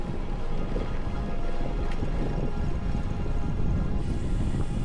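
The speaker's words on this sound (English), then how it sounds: "The wind's really picked up" Strong wind gusts steadily across the microphone outdoors, a loud continuous roaring rumble that persists throughout with no talking.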